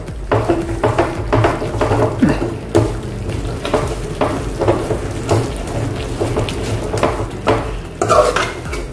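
Chole masala being stirred and pressed flat with a spoon in a pan: loud, close scraping and tapping of metal against the pan in an uneven rhythm over a soft sizzle, without talking.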